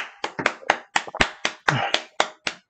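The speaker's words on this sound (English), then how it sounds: "I'm going to clap again." A person claps their hands about a dozen times in a quick, slightly uneven rhythm during an online math talk. The claps are sharp, close and clear, with no talking.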